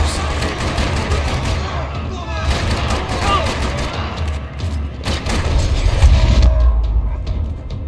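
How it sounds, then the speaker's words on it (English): Gunfire rattles through a parking lot in Max Payne 3, dense bursts and booms layered with mechanical clatter and background voices, loud and sustained throughout. "Another parking lot rattling with gunfire."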